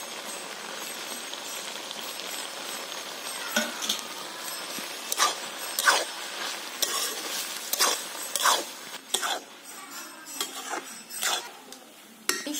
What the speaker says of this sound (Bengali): এগুলো দিয়ে আমি ভালো করে মিশিয়ে নিচ্ছি